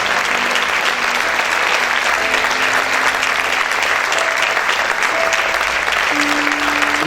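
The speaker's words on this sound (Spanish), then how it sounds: "Aplaude a tu Señor." A church congregation claps hard and continuously as a dense, even wash of applause, with occasional voices and tones faintly audible underneath.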